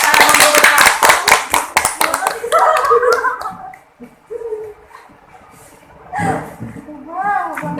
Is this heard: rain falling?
no